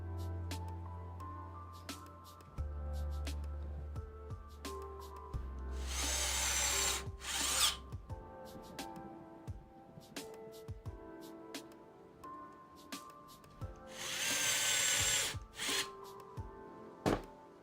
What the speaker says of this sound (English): Let's get these two screws back out.